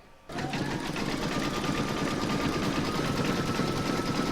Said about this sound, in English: pop that into your machine and stitch round number 3, and that's going to secure the vinyl